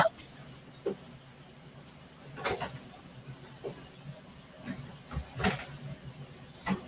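Faint, steady insect chirping repeats in a regular pulse throughout, with occasional soft thumps and rustles in the background.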